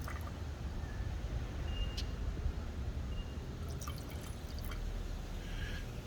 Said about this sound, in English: Let's pour some back